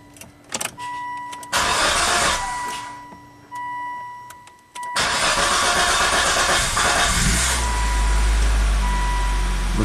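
A Volvo XC90 with a long-crank and stall fault cranks in a few loud bursts broken by short pauses and electronic beeps, then catches and settles into a steady running engine close by.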